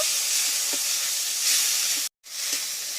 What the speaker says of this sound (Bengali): জিরে বাটাটা দিয়েও একটু নেড়ে চেড়ে বেশ সুন্দর করে কষিয়ে নেব।